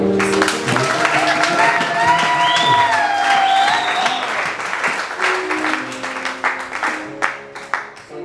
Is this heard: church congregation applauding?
yes